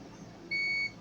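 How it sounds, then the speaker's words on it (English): A multimeter in continuity mode, probing a faulty capacitor in a voltage stabilizer, gives one short, clear, high electronic beep of about a third of a second over a faint background hiss. "Continue beeping like this, meaning the capacitor is bad."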